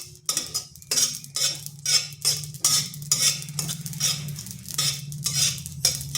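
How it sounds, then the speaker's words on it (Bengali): Poppy seeds dry-fry in a pan, stirred with a spoon in rhythmic scraping strokes roughly every half second, close and fairly loud over a faint low hum, with no voices. "পোস্তটা এইভাবে ভাজতে হবে যেন তার কালারটা চেঞ্জ না হয়ে যায়"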